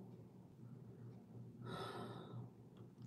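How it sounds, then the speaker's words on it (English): A woman breathes heavily in one faint, breathy gasp that rises briefly over a low, steady hum in an otherwise quiet room. "Listen to her breathing."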